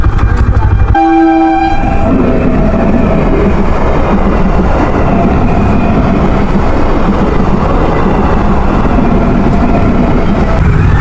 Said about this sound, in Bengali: এখন ট্রেন যাবে, তারপর আমরা যাব